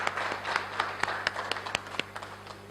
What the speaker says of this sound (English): you need to give yourself a really strong hand of applause